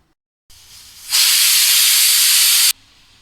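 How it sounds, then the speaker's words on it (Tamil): A loud, steady hiss of steam bursts from a pressure cooker whistle for about a second and a half, then cuts off abruptly, while cooking mutton curry. "குக்கரில் 3 விசில் வந்துருச்சு."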